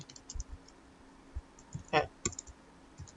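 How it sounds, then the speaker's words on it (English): Keys typed on a computer keyboard in a few quiet, scattered clicks and taps, with a short burst of faster keystrokes in the middle; fairly faint and close, with no talking. "I'm going to type"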